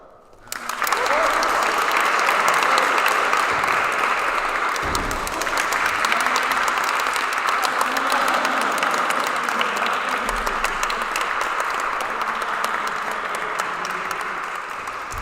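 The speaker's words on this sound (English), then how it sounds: "please give another round of applause for Charlie." Audience at a charity tournament gives a long, sustained round of applause, dense steady clapping from a sizable crowd, moderately loud and continuous throughout with a few louder spots.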